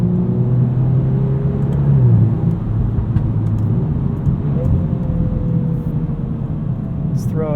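A 2022 Volkswagen Golf R with DSG transmission drives with a steady engine drone and road rumble, pitch sliding down with gear changes, while someone talks throughout over the engine.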